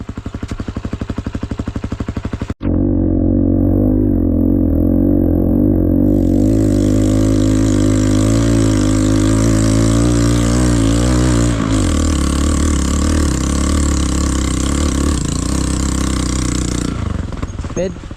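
A motorcycle engine runs loud and close on a cold trail ride, idling steadily after a sharp start and then dropping in pitch partway through. The rumble is continuous, and voices talk over it.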